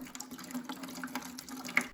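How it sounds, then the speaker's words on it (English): Water from a tap topping off a bucket holding hydrogen peroxide, a quiet, steady trickling splash with small irregular bubbling. "I then topped off the bucket with water"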